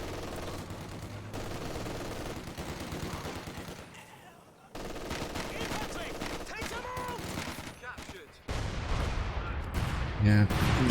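MG42 machine gun fire in a World War II strategy game rattles amid a busy battle mix of explosions and effects, with a commentator's voice running over it.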